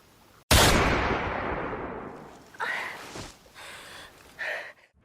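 A gunshot cracks sharply and loudly in a tense film standoff scene, its blast decaying over a couple of seconds, followed by gasping and a few short voiced outbursts.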